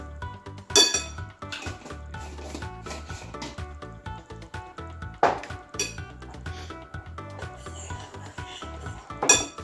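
Metal spoon clinking and scraping against a bowl while measuring chia seeds for homemade pizza dough, with several sharp ringing clinks and lighter scraping between them, no talk.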